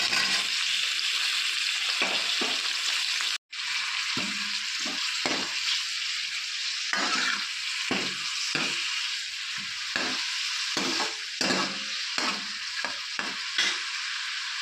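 Onions and tomatoes frying in oil with mustard seeds for a mushroom curry, a dense continuous sizzle with repeated stirring scrapes and utensil knocks, briefly cut off once, with no talk.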